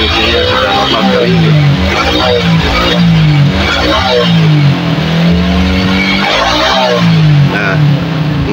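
A Suzuki Shogun 110 motorcycle engine runs loudly and close, its revs rising and falling in repeated surges, with no speech heard.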